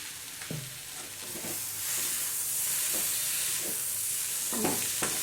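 Potato and capsicum sabzi with tomato and amchur powder stirred in a pan, a steady hissing sizzle with soft spatula scrapes and a few clinks, close and alone.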